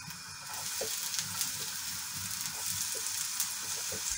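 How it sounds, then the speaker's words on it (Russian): Onion sizzles and crackles steadily in butter in a pan, a constant hissing fry with soft spatters and a few faint clinks, close by and without voices. "поджариваю лук."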